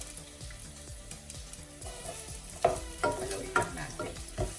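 Garlic and onion dropped into hot oil in a saucepan, frying with soft sizzling and stirring scrapes, quiet and close with a few sharper bursts toward the end.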